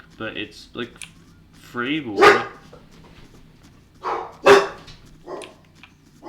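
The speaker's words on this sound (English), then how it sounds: "If you hear my dogs in the background, that's just my dogs." Dogs bark in short bursts in the background while someone talks over them, several sharp barks clustered in two loud groups.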